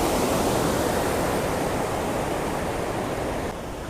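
Water rushes through the partly opened Thenmalai dam in a steady, loud, broadband roar that continues without a break and drops slightly in level near the end, with no voices.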